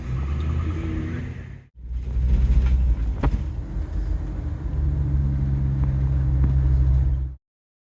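A public bus rumbles along a road with a deep, steady engine drone heard from inside, a short break near the start, then continuous low motor noise that cuts off at the end.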